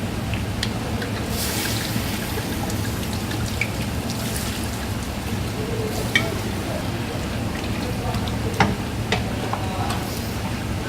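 Veal browning in a pan as red wine is poured in for a gnocchetti sardi sauce, giving a steady, close sizzle with scattered pops and crackles and no talk.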